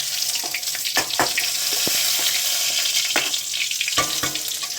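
A bay leaf and whole cumin hit hot oil in a pan, giving a steady, fairly quiet sizzle and crackle with scattered sharp pops throughout, close by with no talking.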